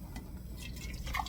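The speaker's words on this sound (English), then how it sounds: "Alright, time to ladle." Hot canned tomatoes ladled into half-gallon glass jars on a stovetop, a quiet, steady wet pouring and dripping with a few soft splashes, close and low in level, no talking.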